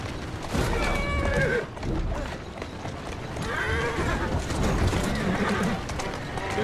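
Horse in the video game Assassin's Creed Syndicate, snorting and neighing over a run of clip-clopping hooves, mixed with game background noise.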